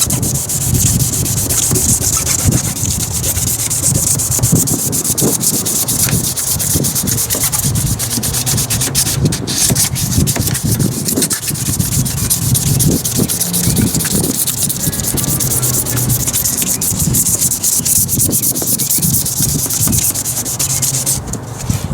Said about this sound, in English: I'm not going to bore you with sanding this half.